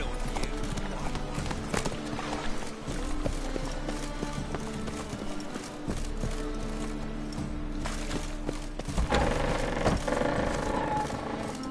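Horse hooves clip-clop at a steady trot in The Witcher 3, under a continuous game soundscape with low rumble and music, with voices talking partway through.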